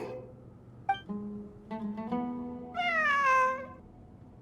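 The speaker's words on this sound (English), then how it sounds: "A cat?" A cat meows in Genshin Impact, in the Sumeru region: a brief call early on, then one long, drawn-out, wavering meow near the end, loud and close, with no talk over it.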